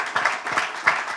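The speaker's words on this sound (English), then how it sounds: "Big round of applause, ladies and gentlemen." A short burst of audience applause at a press conference for a pickleball championship: scattered hand claps, moderately near, rising and falling over a second.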